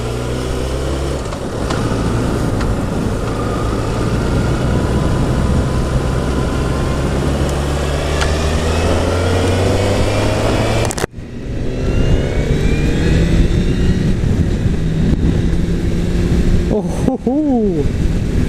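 A 2016 Honda CBR1000RR Fireblade SP litre superbike ridden on the road, its engine droning steadily under rushing wind with a brief gear change and a voice talking over it.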